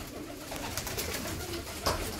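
Pigeons coo steadily beside a dovecote in a garden, a continuous soft warbling murmur of several birds close by, with a slightly louder burst near the end.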